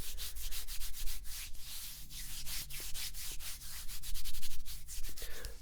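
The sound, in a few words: tapping and rubbing on a muscular forearm, ASMR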